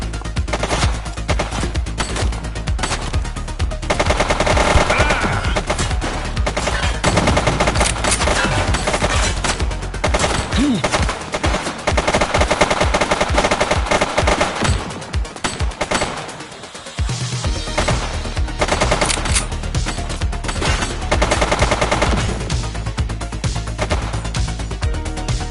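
Gunfire in the shooter video game The Precinct: dense, continuous bursts of machine-gun fire and rapid shots, loud and nearly unbroken throughout, with a brief lull midway and no talk.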